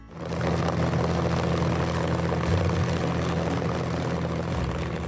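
A loud engine, throttle restricted, holds a steady roar at about 2,500 rpm with a deep throb underneath, running continuously throughout with no voices.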